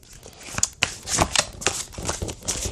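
Tarot cards are shuffled by hand close up, a series of crisp riffling snaps and soft slaps in an uneven rhythm.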